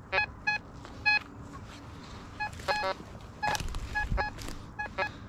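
Treasure-hunting metal detector beeping at a signal outdoors, short sharp electronic tones in irregular bursts, fairly close, with brief rustling between them.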